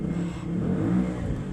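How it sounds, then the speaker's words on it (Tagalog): Motorized tricycle engine passing nearby, a steady low rumbling drone that swells slightly as it goes by, fairly loud with no speech over it. "Teka, may tricycle."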